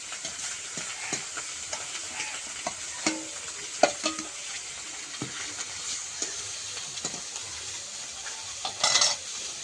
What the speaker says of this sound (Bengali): একটু এই মাছটা ভাজা হতে হতে চুনো মাছের জন্য একটু পেঁয়াজ কুচি নেব